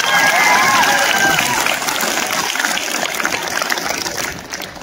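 Lecture audience applauding loudly, a dense continuous wash of clapping from a crowd that holds steady and tapers slightly at the end, with faint voices mixed in.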